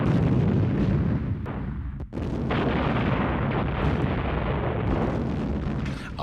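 German artillery guns firing in sustained, dense booming bursts that blend into a continuous loud roar, with one brief dip partway through.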